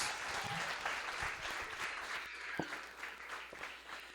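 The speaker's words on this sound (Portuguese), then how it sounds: "Aplaudindo ao Senhor Jesus, recebamos a missionária Aline Lamy com a palavra de Deus." Applause from a church audience fills the room, a thick, sustained wash of many hands clapping at once, with a few sharper claps poking through near the end.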